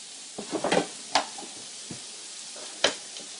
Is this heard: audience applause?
no